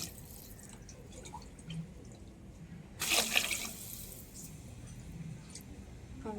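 Water poured from a tumbler onto rice in a cooking pot, a brief splashing burst about midway, with faint dripping and trickling before and after.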